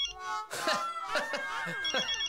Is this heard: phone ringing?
yes